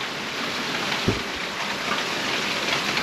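Rain falling steadily all day in a heavy downpour, a constant broadband hiss of drops with one brief low thump partway through, no voices.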